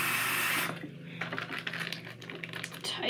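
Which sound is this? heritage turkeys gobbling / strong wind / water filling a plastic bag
water filling a plastic bag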